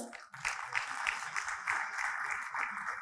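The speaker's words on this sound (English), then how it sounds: "Can we all start with a round of applause?" An audience at the Atal Achievement Awards 2022 ceremony claps together, a fairly quiet, steady patter of applause heard from a distance for a few seconds.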